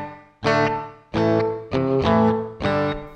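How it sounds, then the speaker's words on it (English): Guitar chords strummed one after another, each ringing out with a short roomy reverb tail before the next strum, about five in all, through the room reverb of a Flamma FX50 headphone amp. "This first one is a room reverb."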